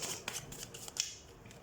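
Tarot cards being handled and drawn up close, with soft quick shuffling and flicking sounds in a quiet room, faint and brief.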